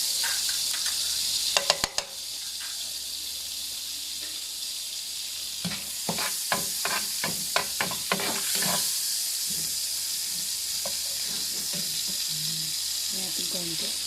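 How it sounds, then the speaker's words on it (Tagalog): Margarine with a little cooking oil sizzles in a pan while preparing a Filipino chicken pastel. A steady, fairly quiet hiss carries scattered sharp pops and crackles. "Para hindi po masunog ang margarine, lagyan po ng konting mantika."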